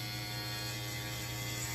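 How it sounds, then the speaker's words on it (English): Electric hair trimmers cutting hair during a home haircut, a steady close buzzing hum that holds evenly throughout with no break and no talking. "Take your trusty hair trimmers."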